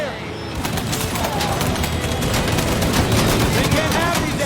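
Sustained gunfire in Mafia 3 during a chase shootout, dense overlapping automatic bursts and shots rattling continuously, loud and close, with voices shouting over the din.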